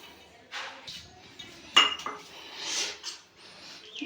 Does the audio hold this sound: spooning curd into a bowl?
yes